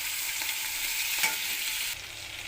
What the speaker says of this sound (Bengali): চিংড়িগুলোকে আমি ডিপ ফ্রাই করবো না। দেখুন ঠিক এতটাই ভাজবো আমি।